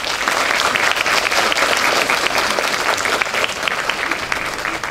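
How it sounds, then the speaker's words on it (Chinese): Loud, dense applause from a lecture audience welcoming a visiting professor, steady and sustained throughout without a break. "现在让我们以热烈的掌声欢迎吴家伟教授讲"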